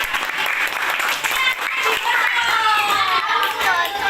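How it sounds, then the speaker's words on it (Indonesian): Steady applause from a classroom full of children, lively and continuous with scattered young voices mixed in. "Tepuk tangan buat semuanya."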